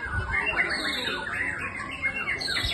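Young murai (white-rumped shama) songbird singing at a bird contest, a rapid run of bright, varied whistles and trills close by, with crowd noise faint underneath.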